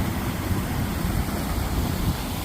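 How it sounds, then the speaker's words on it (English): Splash Dam Falls, a small waterfall on a clear creek along the Appalachian Trail, gives a steady, loud broadband rush of falling water, close by and continuous, with no voices. "I think this is called Splash Dam Falls."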